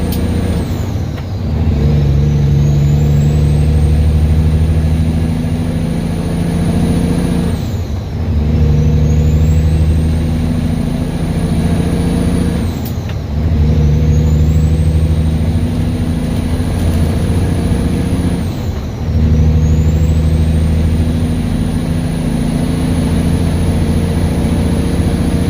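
An 18-speed log truck drives with a loud, steady diesel drone from inside the cab, punctuated every few seconds by gear shifts that dip the engine note before it climbs again.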